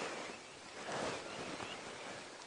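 Wind gusts across the African bush during an early morning safari drive near a herd of elephants. It is a soft, broadband rushing that swells and eases, faint and steady, with no talk.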